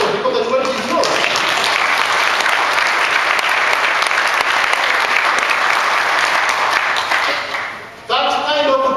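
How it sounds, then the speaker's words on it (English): Audience at a Unitarian Universalist church gathering breaking into loud, dense applause that holds steady for several seconds, then dips and gives way to a voice speaking at the start and end. "Then you clap for yourself because the credit is yours."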